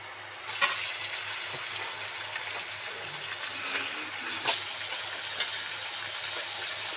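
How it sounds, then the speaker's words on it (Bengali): Chicken pieces fry in hot spiced oil with a steady, close sizzle and a few sharp pops and spatters, with no voices. "দুটো দুটো করে মাংস ওর মধ্যে উঠিয়ে দিচ্ছি"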